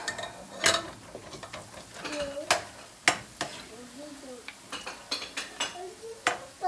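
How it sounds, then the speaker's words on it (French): Flour doughnuts (beignets) frying in hot oil give a soft steady sizzle, with frequent utensil clinks and stirring scrapes against the pan, while a person speaks intermittently. "Faites cuire vos beignets à moitié et vous enlevez du feu."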